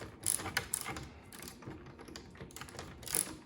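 Ratcheting screwdriver clicking as it turns during a furnace conversion project, a quick series of small mechanical clicks in short bursts, fairly close and moderately loud, with no talk.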